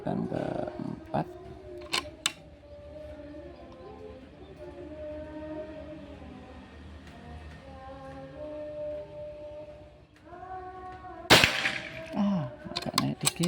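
One sharp, loud Pajero Gun Gen 5 air rifle shot snaps late in the clip after a long quiet stretch of low hum and faint clicks, with a few small knocks following.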